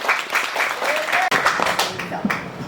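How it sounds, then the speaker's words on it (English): A round of applause from a group, dense clapping that briefly cuts out and then resumes, with voices mixed in underneath. "Round of applause."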